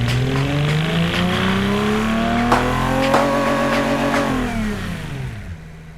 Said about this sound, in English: Sounds alright, despite sounding a frickin' war zone as soon as the throttle is applied